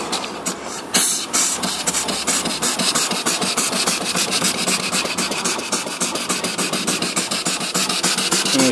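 Mill steam engine running with a loud, steady steam hiss and a rapid rhythmic chuffing beat throughout, close up, preceded by a brief louder burst of venting.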